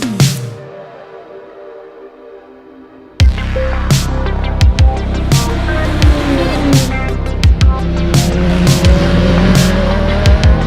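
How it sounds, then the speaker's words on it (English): A Radical SR1 race car on a race track: after a quiet stretch of fading sound, the loud engine suddenly bursts in close by, revving hard with repeated gear shifts and sharp up-and-down pitch swings. "today we're at the track, as you can hear it, and I drove the Radical SR1"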